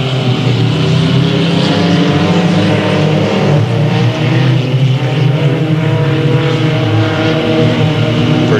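Race cars roar away together at the start of a heat race at Delta Speedway, a dense, loud, continuous wall of engine noise that stays steady and close throughout.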